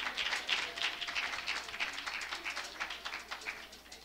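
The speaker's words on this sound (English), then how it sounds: "Give a hand clap again." A crowd claps steadily, a dense patter of many hands, with a few faint voices mixed in, gradually tapering toward the end.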